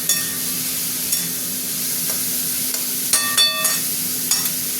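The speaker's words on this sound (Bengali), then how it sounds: "গাজরের সাথে বিনসগুলো দিয়ে দিলাম।" Carrots and beans fry together in hot oil with a loud, even sizzle close by, and occasional light clinks and scrapes of a stirring spoon rise above it.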